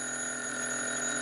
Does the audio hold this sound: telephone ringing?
yes